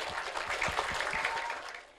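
A crowd claps in a dense burst of applause at a primary school Quran recitation exam ceremony, fading out toward the end.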